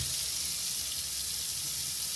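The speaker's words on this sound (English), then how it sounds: "Now to run the water in the sink." Hot water runs from a kitchen sink faucet with a low-pressure fault from a clog, making a steady, even hiss and rush that continues unbroken throughout, close by, with no talking.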